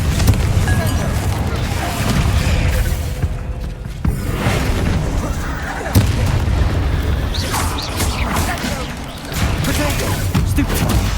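A Confringo fire spell explodes in Hogwarts Legacy with deep, booming blasts and crashes over a loud, continuous game soundscape, with a voice heard in the mix.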